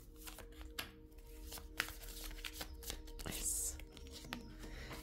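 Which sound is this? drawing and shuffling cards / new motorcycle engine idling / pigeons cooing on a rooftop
drawing and shuffling cards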